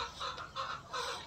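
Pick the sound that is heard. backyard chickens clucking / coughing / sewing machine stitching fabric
backyard chickens clucking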